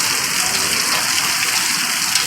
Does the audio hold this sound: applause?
no